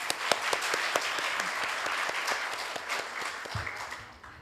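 An audience at a literary reading session with an author claps steadily in warm, sustained applause that fades out toward the end.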